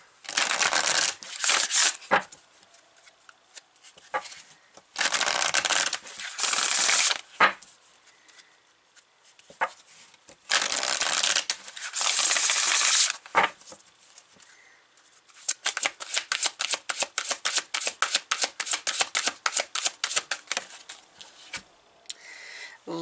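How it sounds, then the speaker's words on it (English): Tarot and oracle decks are shuffled close up in several brisk papery bursts, followed by a long run of rapid flicking card snaps as cards are pulled. No one speaks. "I'm going to pull from the Map Oracle and the Good Tarot. I'm going to pull the cards first."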